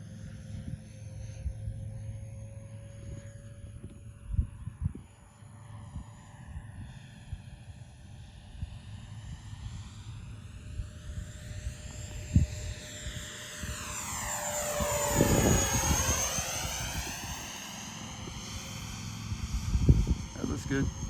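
An Arrows MiG-29 RC model jet flies on its maiden flight outdoors, its electric ducted-fan whine rising and falling as it passes, swelling loudest near the middle, while people talk nearby.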